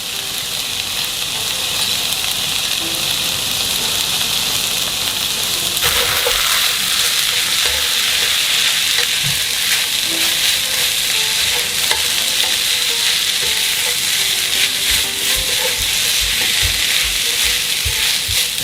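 Fish cake and mushrooms stir-frying in a pan, a steady loud sizzle with the scrape and clatter of stirring throughout, with no voices.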